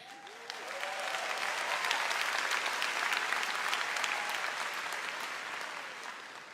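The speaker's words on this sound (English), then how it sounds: "You all clap right now" A large graduation ceremony audience claps steadily, dense applause swelling gently and then tapering off over several seconds.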